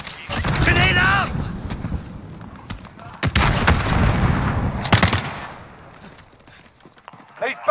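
Grenade blast and gunfire in a multiplayer shooter game, sharp explosive cracks and scattered rifle shots spread across the clip, with voices and radio chatter talking over the action.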